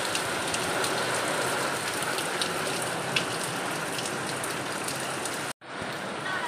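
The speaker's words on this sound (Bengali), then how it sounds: "এতটাই জোরে বৃষ্টি হচ্ছে" Heavy rain pours down in a dense, unbroken hiss on a dark, stormy morning, loud and steady throughout before cutting off abruptly for a moment near the end.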